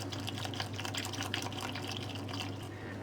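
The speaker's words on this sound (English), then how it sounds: "Take milk and insert it into the bowl." Milk poured into a bowl while making a honey cake: a continuous close splashing, gurgling pour without pause.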